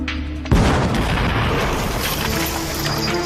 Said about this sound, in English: Again, the explosion rocks the quarry.